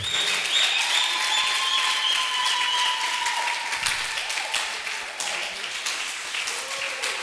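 A church congregation applauds continuously at a worship service, a steady wash of many hands clapping that stays loud and even throughout, with faint sustained singing or voices held underneath.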